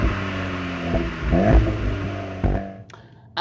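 A VW Golf GTI Clubsport Mark 8.5 drives with a harmonic engine note that rises as it revs, close and steady, with a small clunk near the end.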